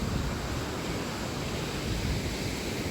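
Surf rolls in on the wide beach at Prigi, Trenggalek, a constant broad hiss of waves mixed with wind buffeting the microphone, fairly faint and without voices.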